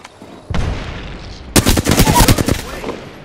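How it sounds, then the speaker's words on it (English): Bursts of rapid gunfire in an Apex Legends match, a single sharp shot followed by a loud, dense volley of overlapping shots at close range. "Getting shot at."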